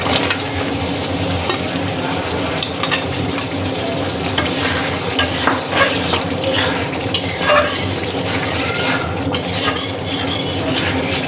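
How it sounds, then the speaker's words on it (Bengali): Fried potatoes are stirred into spices and tomato puree in a hot pan, with continuous sizzling and frying broken by scraping and clinks of a utensil against the pan, close and fairly loud with no voices. "আলুগুলো দিয়ে মশলাগুলো ভালো করে কষিয়ে নিতে হবে।"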